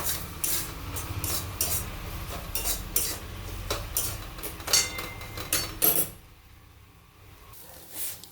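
A spoon stirs and scrapes through a salted mash of ghetkol kochu (taro) greens, making repeated clinks and wet scraping sounds close up. The clinks come in irregular bursts, then stop, leaving near silence with one soft knock.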